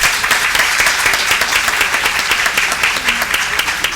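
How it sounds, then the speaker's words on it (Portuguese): An audience at an academic panel gives a round of applause, a dense, sustained wash of many hands clapping that stays loud and even throughout with no talking. "E uma salva de palmas."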